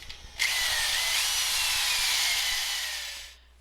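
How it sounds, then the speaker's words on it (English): A power drill whirs steadily at high speed for about three seconds, drilling mounting holes for a chimney cover bracket, loud and close, then winds down to quiet. "I pencil some marks where I'd like to mount it and drill some holes"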